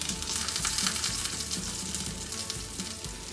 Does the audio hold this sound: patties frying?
yes